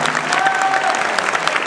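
An audience at a Mons event applauds accordionist Laurent Pire, a dense, steady burst of clapping from a crowd, close and even throughout.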